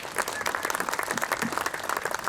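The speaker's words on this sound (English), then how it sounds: "Let's give Coach DeMeo a round of applause." Spectators at a baseball field dedication give Coach DeMeo a round of applause, brisk continuous clapping from a modest crowd, fairly faint and outdoors.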